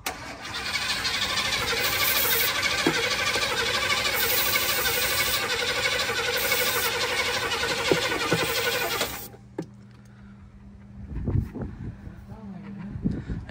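An engine with starter fluid poured into its throttle body cranks and catches, running loud and steady for several seconds before cutting out, followed by faint clunks and voices.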